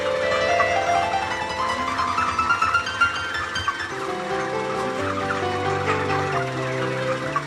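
A poultry house full of broiler chickens ready for harvest, with a dense, continuous murmur of clucking and chirping from many birds mixed with steady background hum.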